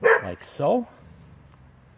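A dog named Molly gives a couple of short yips close by outdoors during fruit tree grafting work, followed by quiet; someone speaks briefly over the start.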